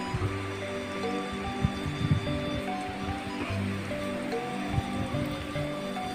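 Water flows steadily through an irrigation channel beside rice fields, a continuous close babbling rush with small splashes, heard alone without talk.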